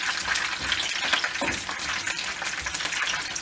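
Peppers frying in oil in a pan, a steady close hiss and crackle of sizzling with a few soft knocks, no voices over it.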